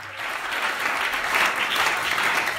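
Dense, even applause from a church congregation fills a short moment, many hands clapping together at a steady loud level with little else audible.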